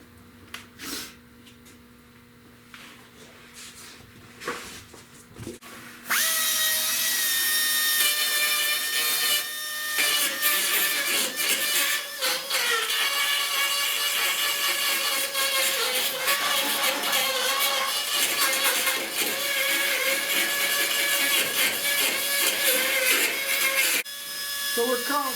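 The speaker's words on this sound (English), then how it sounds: "I come in here with the die grinder, clean all of this up." A die grinder scours rust out of a rusted-out car windshield channel, starting after a few quiet seconds and then running loud and steady with a whining, rasping tone until it cuts off near the end.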